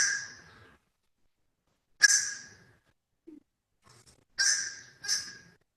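A fish crow gives several short, nasal caws, spaced apart with silent gaps, one doubled near the end, clear and fairly close.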